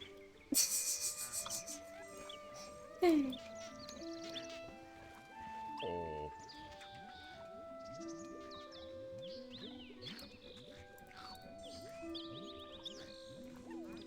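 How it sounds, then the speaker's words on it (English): A parrot-like bird of paradise creature in the Viva Piñata video game gives a string of chirps, whistles and squawks. A louder call near the start and another around three seconds rise over quieter background game sounds. "Why is there a parrot in here?"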